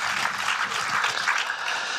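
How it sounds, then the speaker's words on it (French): A studio audience on a French political talk show applauds warmly, a steady, even patter of many hands clapping close by throughout, with no pause. "Je vous demande de l'applaudir"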